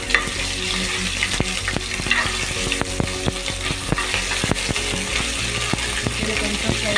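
Onions fry in hot oil with ginger garlic paste for a chicken masala gravy, a steady loud sizzle with repeated scraping and clicking of a spoon stirring against the pan, heard close up.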